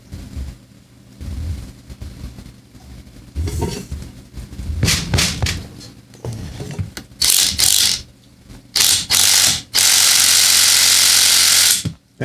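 Ratchet tightening on the engine of a vintage 1965 Ariens snowblower, close, loud bursts of clicking and mechanical clatter that grow into a sustained harsh rattle near the end, with no talking.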